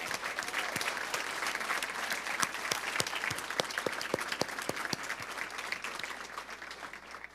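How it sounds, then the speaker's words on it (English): An audience at a physician assistant program graduation applauds the preceptors with dense, steady clapping throughout that slowly thins toward the end. "I'd just like to have a round of applause for all of our preceptors who teach our students every day"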